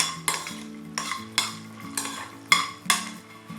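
Cashews fry lightly in ghee for coconut milk halwa while a spoon scrapes the pan in steady, regular strokes over a soft, low sizzle, close and clear with no talking.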